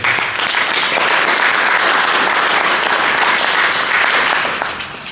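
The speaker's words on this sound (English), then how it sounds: "I'd like to give them a big round of applause." Loud, full applause from a crowd at a boxing promotion press event, sustained clapping from many hands that fades slightly at the close.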